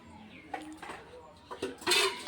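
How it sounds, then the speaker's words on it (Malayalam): Dishes clink and knock in a home kitchen where water is stored in containers, with scattered light clatters that grow louder near the end, heard faintly up close. "അമ്മ പാത്രം കഴുകണം"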